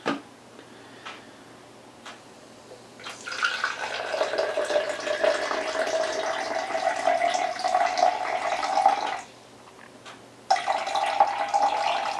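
Water for pizza dough pours onto a kitchen scale in a steady close stream lasting several seconds, stops, then runs again in a shorter second pour, with faint ticking before it and no talking.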